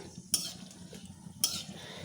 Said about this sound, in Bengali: এই লঙ্কা ভাজা করে নিচ্ছি